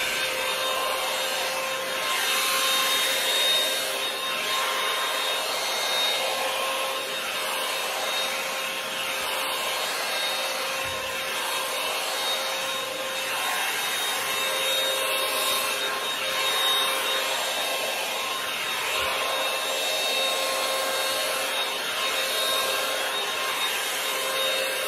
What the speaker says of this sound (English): what I've been doing is going back in with the Revlon blow dry brush, and I just put it on the cool section